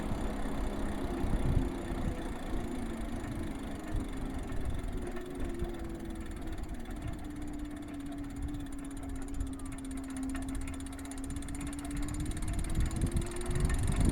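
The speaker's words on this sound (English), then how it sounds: "I'll kind of be quiet here so you can hear the motor" Ride1UP LMT'D V2 e-bike motor straining up a steep punchy hill, a steady whining drone that slowly bends in pitch, heard close under heavy wind rush and road noise, with no talking.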